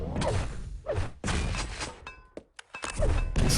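Grenade launches and thudding impacts in the Quake arena shooter during a 125fps League match, a series of sharp bursts and thunks in irregular rhythm, loud and close, with no talk over them.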